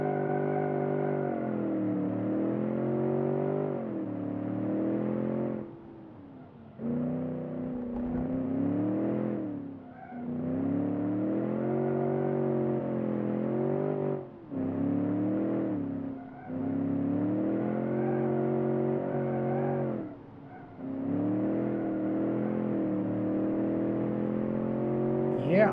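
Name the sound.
car doing burnouts, revving in second gear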